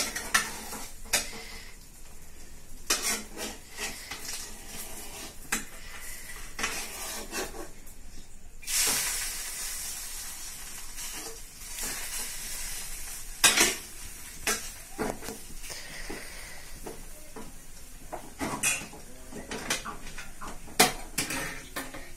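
A masala omelette of Kadaknath egg frying in a pan on the stove, soft sizzling under repeated scraping and clinks of a spatula against the pan, close and fairly quiet with no speech.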